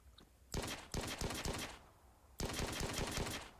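The standard assault rifle in the Arma 3 Mass Effect mod fires two rapid automatic bursts, each a quick string of sharp, evenly spaced shots, close and clear with a short pause between.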